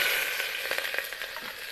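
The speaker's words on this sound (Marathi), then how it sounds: "कुकरमध्ये तेल टाकलेलं आहे आता आपण जिरं टाकतोय आणि जिरं टाकून कांदा आणि हिरवी मिरची आणि लसण" A short burst of cumin, onion, green chili and garlic frying in oil in a pressure cooker on a wood-fired stove, a bright crackling sizzle with a few soft stirring taps, close by.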